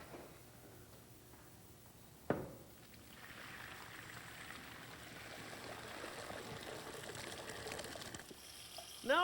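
A pot of vegetables, just boiled, is drained in a kitchen. A metallic clank starts a faint, steady rushing pour that runs for several seconds, and another clank comes at the end.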